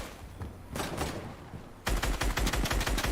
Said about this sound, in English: Pressure with the Scar. The Scar does shoot pretty fast.